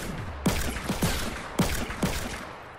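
Gunfire in a Fortnite match where a player is hit by a sniper, four sharp cracks in two close pairs, each trailing a short echoing tail.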